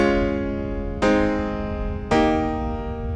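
Three sustained keyboard chords play in sequence in GarageBand, each struck cleanly and ringing out, the last held twice as long.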